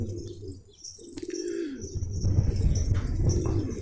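Pigeons cooing in a coop, soft low coos close by with light chirps and some wing flutter, rising into a busier rustling mix toward the end.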